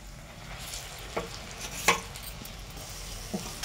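Jackfruit seed paste goes into a pan of fried onion, garlic and chili, giving a faint steady sizzle broken by a few soft scrapes and one sharper clack.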